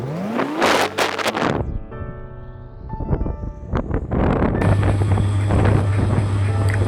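A motorbike ridden toward islands in the Strait of Malacca around Siak, Selat Panjang and Rangsang, its engine droning loudly with rising and falling pitch and heavy wind rush over the microphone.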